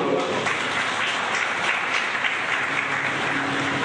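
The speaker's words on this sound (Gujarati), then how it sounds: "જરાક તાળીઓ પાડીએ" A crowd at a public welcome event applauds steadily, a constant dense patter of many hands clapping with no break, at moderate loudness.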